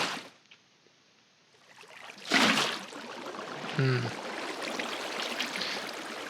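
Water in the Minecraft Caves and Cliffs snapshot flows and splashes after a quiet start, a sudden burst followed by steady trickling and a brief bubbly pop, moderately loud and alone.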